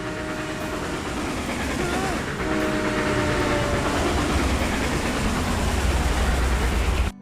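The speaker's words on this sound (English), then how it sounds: "There's an old black train a-coming" An old black train rumbles with a steady clickety-clack in an animated fantasy series, a dense continuous roar with a few tonal whistle-like lines over a constant low rumble that swells slightly toward the end.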